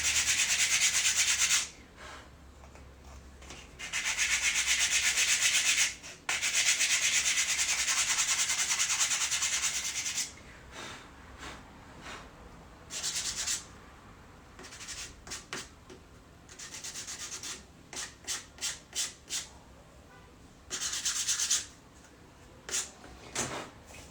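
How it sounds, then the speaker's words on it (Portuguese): A makeup box lid being hand-sanded, bursts of loud, close scratchy rubbing lasting several seconds each, then shorter quick back-and-forth strokes separated by pauses. "Eu gosto de lixar, porque às vezes ficam uns grusminhos aqui, né? Uns relevos, então eu vou lixar, assim, ó."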